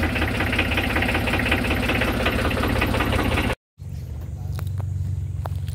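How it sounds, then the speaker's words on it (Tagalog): A large wooden outrigger boat's engine runs loudly with a steady knocking idle, cuts out briefly, then restarts at a lower, steadier throb. "ganito yung paraan dito ng ano, ng pag-start ng makina"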